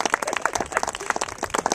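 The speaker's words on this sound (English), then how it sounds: "the round of applause for us." Audience applause at a Renaissance faire army performance: a brisk, dense burst of many hands clapping, steady and fairly close throughout.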